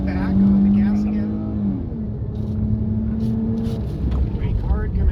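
A car brakes hard and accelerates back on the throttle through an offset cone course, its engine note rising and falling loudly up close while someone talks over it.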